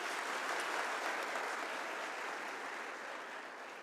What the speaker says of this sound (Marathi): एकदा जोरदार टाळ्या होत्या ताईसाठी.